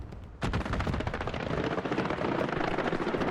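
Aircraft strafing run in the World War II shooter Hell Let Loose on the Utah map: a sudden loud burst of rapid automatic fire that begins abruptly and keeps rattling densely, close and unbroken, with no talk over it.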